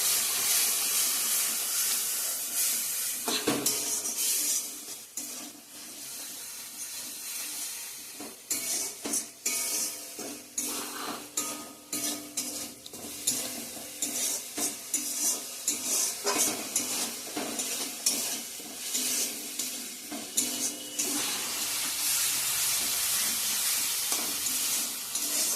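Vegetables fry and are stirred in a pan, a busy sizzle broken by repeated scraping and clattering of a utensil against the pan, with occasional louder clanks and no talking.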